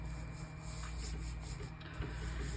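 Paint being rubbed through a stencil, giving a continuous, close, dry scrubbing and rasping sound that holds steady throughout, with no talking.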